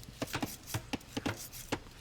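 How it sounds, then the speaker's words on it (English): Trees being chopped in a video game, a quick series of sharp thwacks at an uneven rhythm, fairly faint and close, with about eight distinct strikes. "chopping some straggler trees"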